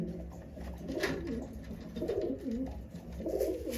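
Soft, repeated cooing of a short-sized Madras pigeon close by, rising and falling in several low phrases against faint background noise.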